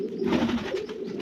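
Domestic pigeons coo close by, a low continuous throaty burbling with soft rhythmic pulses and no voices.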